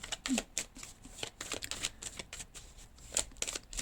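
Tarot cards being shuffled and drawn, a quick run of crisp riffling flicks and slaps at close range with no voices over them.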